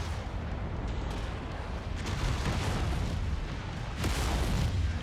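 Dense, rumbling barrage of SRM missile fire and explosions in the MechWarrior 5 video game, loud and continuous with overlapping booms swelling in waves.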